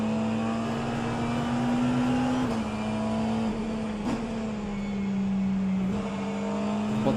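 Race cars in a racing video game roar off the start at Monza, a steady droning engine note that shifts pitch with gear changes, continuous and close with no talk.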